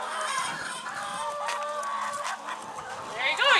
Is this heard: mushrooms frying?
no